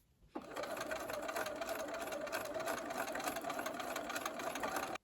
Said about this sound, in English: take them over to the sewing machine